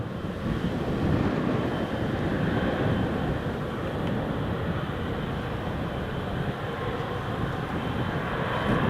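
Jet aircraft climbing steeply after takeoff from Newcastle International Airport, a continuous broad roar that stays steady and fairly loud throughout, with no talk over it.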